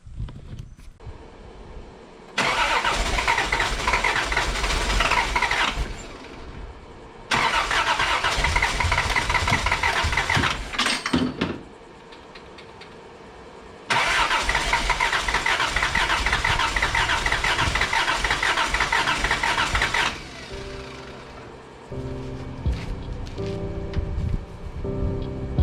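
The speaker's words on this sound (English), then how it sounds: "So I'm gonna hook up the battery and give her a crank." A Toyota 7MGE engine undergoing a head gasket repair is cranked over by its starter in three long, steady whirring attempts, each a few seconds long and separated by short pauses, heard up close.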